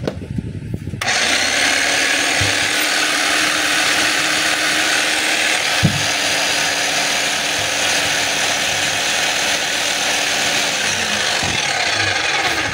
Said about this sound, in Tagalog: iti-testing natin yung kanyang hammer kung malakas